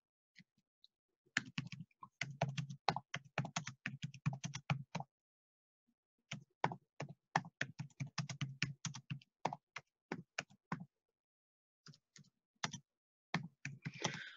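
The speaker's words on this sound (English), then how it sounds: "So, I am going to type on the chat the mantra." Rapid typing on a computer keyboard in bursts of dense clicking separated by short pauses, close and fairly quiet, with no talking.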